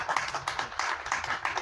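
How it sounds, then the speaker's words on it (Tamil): Light clapping from a small audience, a loose patter of handclaps repeating quickly and close for a couple of seconds, with no talking. "கொஞ்சமாக கைத்தட்டுது"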